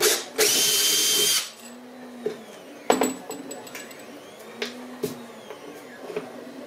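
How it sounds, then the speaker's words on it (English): A drill bit sized to match a rivet bores through a Yamaha Enticer snowmobile seat in one loud, steady burst of about a second, followed by quieter clicks, bumps and handling noises. "I got a drill bit about the same size as the rivet, so I'll just go through and see how we fit"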